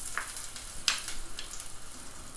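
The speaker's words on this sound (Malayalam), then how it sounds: "ഇതിലേക്ക് ഇഞ്ചി വെളുത്തുള്ളി പേസ്റ്റ് ചേർത്ത് കൊടുക്കാം." Ginger garlic paste dropped into hot oil in a pan already holding green chillies and curry leaves for a Kerala fish roast, giving a close, steady sizzle with a couple of brief sharp crackles.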